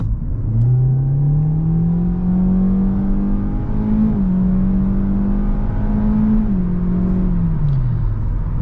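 A 2023 Hyundai Elantra SEL with a naturally aspirated 2.0 engine in sport mode accelerates hard, its steady engine drone climbing in pitch, dipping briefly at shifts and then rising again, loud and close from inside the cabin.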